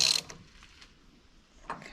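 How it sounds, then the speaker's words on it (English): A hand wrench ratchets on a front axle bolt during a Jeep axle build, two short clicking bursts, one at the start and one near the end, with a quiet gap between them, close by and with no talking. "we're going to start with just a wrench to get it"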